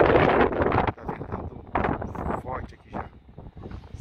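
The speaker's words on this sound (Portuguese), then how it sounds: "você consegue perceber que está ventando um pouco forte aqui na região" Gusty wind buffets the microphone at Sorocaba airport, rumbling in uneven bursts under a person speaking.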